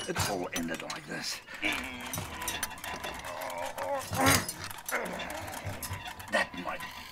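A dog pants and whimpers close by during a film scene, mixed with people talking and a few light metallic jingles and clinks.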